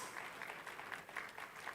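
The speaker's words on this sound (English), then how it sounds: "Please give her a Meta round of applause." Conference audience applauding a speaker at an African data protection authorities gathering, a steady patter of many hands clapping, moderately distant and fairly quiet, with no talk over it.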